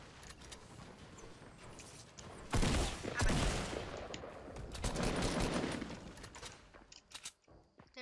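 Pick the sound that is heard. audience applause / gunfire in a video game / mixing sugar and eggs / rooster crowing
gunfire in a video game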